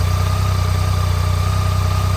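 A water-cooled inline-three motorcycle engine idles close by, giving a loud, steady, low throbbing hum with an even pulse and no voices.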